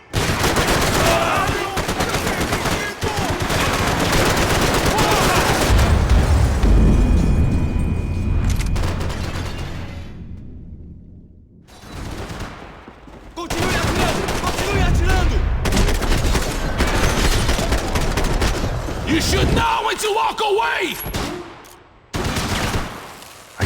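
Gunfire in Max Payne 3, with dense bursts of rapid shots and booming impacts, loud and close, breaking off into brief pauses before resuming.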